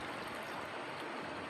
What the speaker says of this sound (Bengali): এই যে হাত ধুয়ে ফেললো, সবাই দেখে নিন।